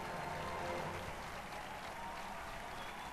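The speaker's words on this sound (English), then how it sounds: "Why are you clapping for yourself, guys?" Steady, continuous applause from a studio audience in the Who Wants to Be a Millionaire video game, a dense wash of clapping that holds evenly for a few seconds with no talk over it.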